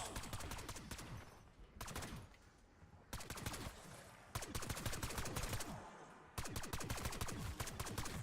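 Rapid bursts of M14 rifle fire in the Black Ops 6 video game, loud repeated volleys of shots separated by brief pauses, with no talking.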